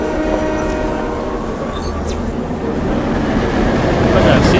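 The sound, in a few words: train passing through station, Hitman Absolution video game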